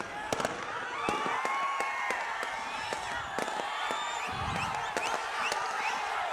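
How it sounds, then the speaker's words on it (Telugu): Firecrackers crackle and pop steadily at an outdoor political rally, sharp bursts repeating every half second or so over a continuous roar of crowd noise and cheering. "తమ్ముళ్ళు క్రాకర్స్ ఆపాలి."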